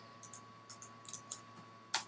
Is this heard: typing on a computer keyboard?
yes